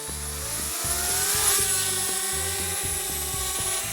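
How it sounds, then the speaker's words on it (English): DJI Spark drone lifting off from a hand, a steady high-pitched propeller whine with a buzzing motor hum that stays close and constant, rising slightly in intensity mid-way. "That takeoff from the hand is still one of my favorite features of the Spark."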